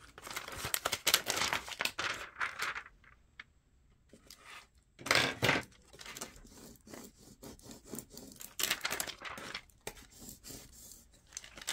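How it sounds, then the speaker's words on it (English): Vinyl transfer tape is handled and peeled, giving close, irregular crinkling, sticky rustles and ripping bursts with short quiet gaps, and no talking. "now we're just gonna grab some transfer tape"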